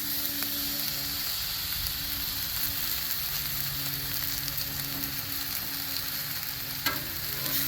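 Teriyaki-glazed pork chops searing in a hot pan, a constant loud sizzle and crackle with occasional sharper pops.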